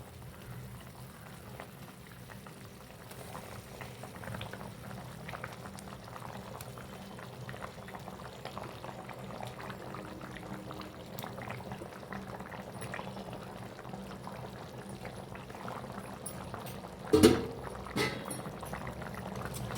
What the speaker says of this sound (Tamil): குழம்பு நல்லா கொதிக்கட்டும்.